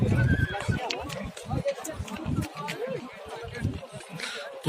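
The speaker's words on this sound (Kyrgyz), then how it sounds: "бул жылкы ат Пунан экен." A horse neighs at the Özgön livestock market, a loud whinny near the start followed by quieter snorts and shuffling amid crowd chatter and nearby voices.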